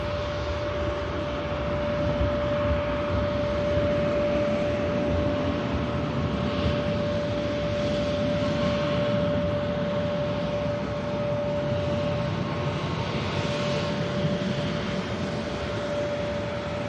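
An airliner rolls past at Manchester Airport, its engines a steady, close whooshing roar carrying a sustained mid-pitched whine, with gentle swells in the hiss as it moves by.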